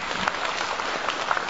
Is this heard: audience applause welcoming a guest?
yes